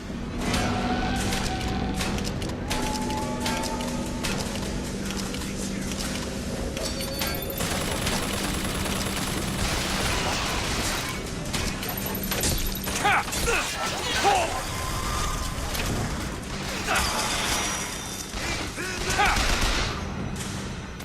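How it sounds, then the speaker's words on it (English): Machine gun fire in the video game BioShock Infinite, with bursts of rapid shots, crashes and mechanical clatter running through a long stretch of combat, mixed with other game sounds at moderate loudness. "here's this machine gun. Well set up to help you in the next fight."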